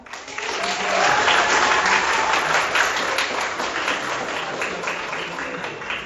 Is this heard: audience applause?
yes